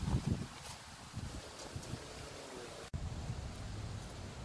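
Wind blows outdoors, giving a faint broadband rush and gusty buffeting on the microphone, with soft rustling and no voices.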